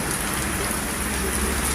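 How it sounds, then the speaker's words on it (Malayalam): Heavy rain falls during Cyclone Fengal in Tamil Nadu, a dense, constant roar of downpour that stays loud and even throughout, with no voices. "തമിഴ്നാട്ടിൽ കനത്ത മഴ പലയിടത്തും വെള്ളപ്പൊക്കം"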